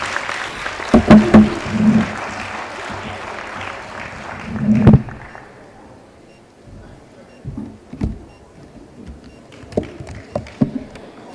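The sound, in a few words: audience applause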